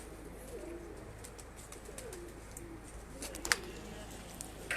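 Pigeons settled on a rooftop, soft cooing faintly under a steady outdoor hum, with a few sharp clicks and a brief rattle near the end; no voices stand out.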